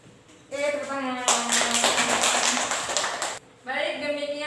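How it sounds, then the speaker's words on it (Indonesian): A classroom of students clapping hands in a dense burst of applause lasting about three seconds, with a teacher's voice talking before and after it. "Oke, tepuk tangan."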